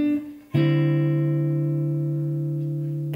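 A single guitar chord in D Mixolydian is struck once after a short lead-in note and rings out steadily, sustained and clear with a slow decay, no voices.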